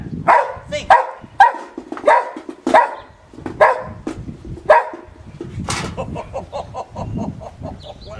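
A dog barks repeatedly in a steady series of loud, close barks during a dog training session, the barks spaced about half a second apart, with background noise and brief voice sounds later.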